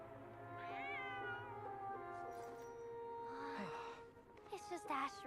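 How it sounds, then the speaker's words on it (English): A cat meows in Genshin Impact, giving a few drawn-out, tonal cries close up over soft game ambience, with a brief breathy sound near the end. "It's a cat."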